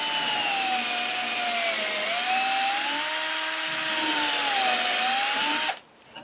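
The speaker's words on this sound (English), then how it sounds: "So let's start drilling that right now." A power drill bores a hole in a piece of wood for a wooden suet feeder, giving a steady, close, high whine that wavers slightly in pitch for several seconds before cutting off abruptly.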